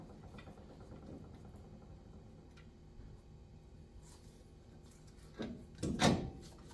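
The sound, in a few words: Xterra axle being slid into bearing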